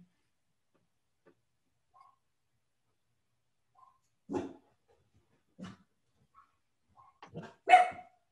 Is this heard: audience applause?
no